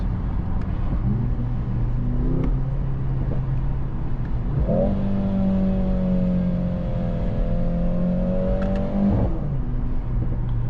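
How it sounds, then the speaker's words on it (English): A 2024 Mercedes-AMG GLC 63 S engine drones steadily, then revs higher as it accelerates with a smooth, rising exhaust tone before easing back down. "we have sounds coming also from the exhaust"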